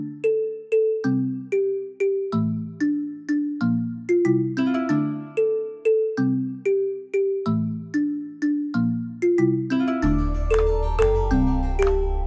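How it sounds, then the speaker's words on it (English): The safety bell on The Grove trolley in Los Angeles rings loud and close, a steady run of repeated bright chimes. A low hum joins near the end. "And you hear that safety bell,"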